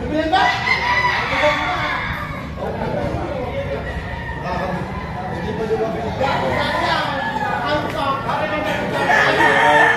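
Chickens cluck and a rooster crows amid busy noise at a poultry market in Padre Garcia, Batangas, with someone talking steadily over the birds throughout.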